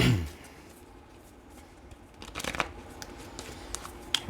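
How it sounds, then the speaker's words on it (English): Tarot cards are shuffled, with a quiet pause early on and then a run of soft, crisp riffling and flicking sounds that grow busier and louder toward the end. "let's go ahead and pull some tarot"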